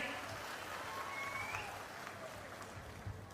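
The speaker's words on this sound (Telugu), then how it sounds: "బాగున్నాయంటే చప్పట్లు కూడా చెప్పండి బాగున్నాయని." An audience at a political rally applauding, a soft, even wash of distant clapping that holds steady for a few seconds with faint crowd voices mixed in.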